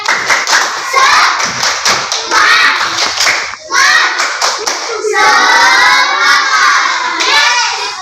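A classroom of children doing a tepuk semangat spirit clap: rhythmic bursts of hand claps mixed with loud shouting and cheering voices, continuous and close throughout.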